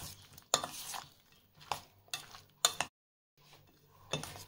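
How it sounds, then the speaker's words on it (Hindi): A spoon stirs oil into green chilli pickle, scraping and clinking against the container in several slow strokes with a faint oily sizzle and a brief pause between them. "ये तेल को मैंने इसमें अच्छे से मिक्स कर लिया है।"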